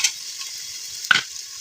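Peanuts and green chili sautéing in hot oil for masala rice, a steady close sizzle with a sharp scrape or stir near the middle.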